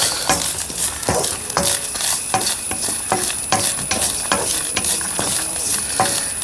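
Coriander seeds, dried red chillies and whole spices dry-roasting in a pan for an Andhra-style fish curry, with repeated stirring scrapes and taps of a spoon against the pan in a fairly regular rhythm, close and fairly loud.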